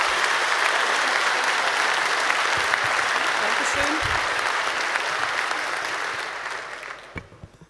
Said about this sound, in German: bitte heißt Anne herzlich willkommen mit einem großen Applaus